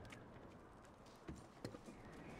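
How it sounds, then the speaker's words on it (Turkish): Horses arriving in Red Dead Redemption 2, with a few soft hoof clops over a steady ambient game background, fairly faint and without talk. "Ah, atlar gelmiş."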